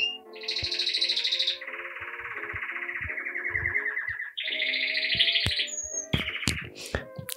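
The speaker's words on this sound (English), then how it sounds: "Obligatory bird content." Songbirds chirp and whistle in clear, varied phrases close by, with short pauses between calls and no voices.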